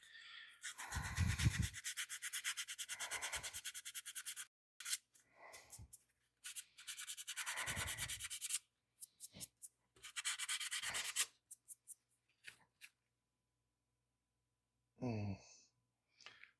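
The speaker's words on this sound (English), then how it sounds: "Let's get some higher grit stuff. Well, yeah, the 180 should work fine." Hand sanding with 180-grit sandpaper: several rasping bursts of back-and-forth strokes separated by pauses, close and fairly quiet, ending with a short final scrape.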